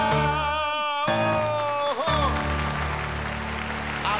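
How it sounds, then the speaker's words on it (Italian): An audience applauds as a song on an Italian variety show ends, with the music's final held notes giving way to loud, sustained clapping. "Applausi per tutti tranne che per il sottoscritto"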